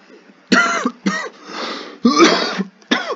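A person coughs hard in several harsh, raspy bursts, with a strained throat-clearing sound between them, close to the microphone.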